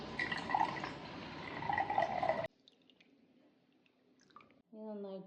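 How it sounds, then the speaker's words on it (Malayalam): Milk poured into a jar holding egg and cardamom for a sweet batter: a steady, close liquid rush lasting a couple of seconds, then near quiet with faint clicks and a short tonal sound at the end. "നമുക്ക് പാൽ ഒഴിക്കാം."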